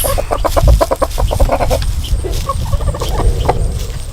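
A hen at an animal rescue sanctuary clucks in a quick run of repeated short notes, close and fairly loud, followed by softer scattered clucks over a steady outdoor background.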